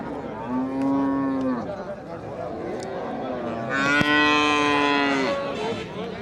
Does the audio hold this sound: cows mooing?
yes